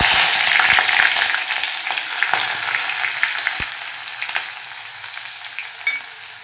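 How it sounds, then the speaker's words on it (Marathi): Finely chopped onion and green chili pieces sizzle in hot oil in a wok, a steady frying hiss with a few clinks of stirring that fades slightly as it goes on. "त्यामध्ये आता बारीक चिरलेला कांदा आणि मिरचीचे तुकडे घालूया।"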